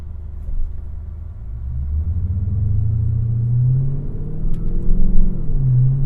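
A Dodge Magnum SRT-8, bagged and supercharged, rumbles under way with a deep engine drone that rises and falls in pitch as it accelerates through gears, steady and fairly loud inside the cabin.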